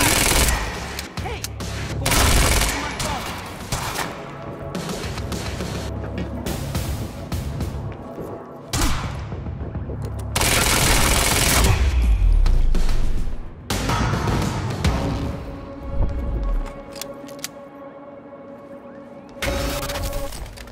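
Bursts of gunfire fill a Quantum Break video game firefight: loud, dense automatic volleys come in waves, separated by brief lulls and shouted voices.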